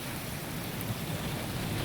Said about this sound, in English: Rain in the city.